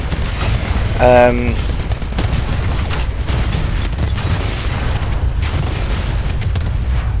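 Rocket salvos firing and blasting in Titanfall, a dense stream of booms and mechanical clatter under continuous gameplay noise, with a short burst of tonal launch sound near the start.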